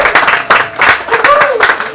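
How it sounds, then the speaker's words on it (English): An audience at a suicide-prevention fundraiser concert claps, a dense close patter of applause in uneven surges with a voice briefly heard over it. "So give yourselves another round of applause,"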